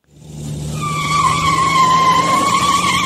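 A car skids and swerves with a loud, sustained tire squeal that rises quickly and holds as a steady screech under a low rumble, close and with no voices.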